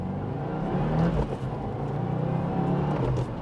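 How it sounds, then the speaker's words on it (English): A 2022 Subaru WRX with a short shifter plate accelerates hard through first to fourth gear, a loud close engine drone rising and dropping briefly between quick shifts, with no talking. "I'm just going to send it through, like, first through fourth or something."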